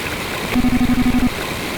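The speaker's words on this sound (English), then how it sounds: "The rain is still pouring down." Rain pours as a steady, dense hiss in the video game Mother 3, with a short run of evenly spaced low pulses rising briefly over it.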